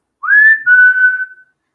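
A storyteller's voice imitates a boy whistling for his dog: one clear, loud whistle that rises then holds, with a short break midway, heard alone without talk.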